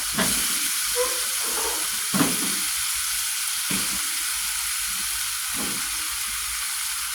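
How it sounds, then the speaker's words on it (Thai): Shrimp and mushrooms stir-frying in a hot pan give a steady close sizzle, with a few louder scraping stirs breaking through the continuous frying hiss. "กุ้งนะคะกลี้งต้องแค่สองนาทีก็พอ เราก็ใส่เห็ดลงไปนะคะ"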